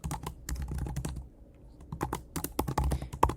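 Computer keyboard keys clatter as Python code is typed, quick uneven bursts of close clicking and tapping with a brief pause in the middle.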